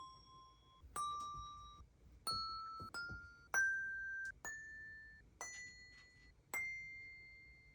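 Montessori bells struck one at a time in a bell check, about eight clear ringing tones stepping upward in pitch, each bright strike ringing on and fading before the next, close and alone in a quiet room.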